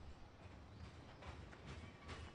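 Train departing in Farming Simulator 2015, heard as a steady rumbling rail noise with faint clattering of the wagons, moderately loud and continuous throughout, no talking.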